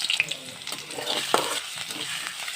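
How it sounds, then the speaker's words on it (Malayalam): Chopped ginger, garlic and green chili sauté in butter and oil for Indian-style masala pasta, a soft, continuous sizzle with light stirring scrapes, close and fairly quiet. "ഇത് നമുക്ക് ഈ എണ്ണയ്ക്കകത്തും ബട്ടറിൻ്റെ അകത്തും ഇട്ടൊന്ന് വഴറ്റിയെടുക്കാം"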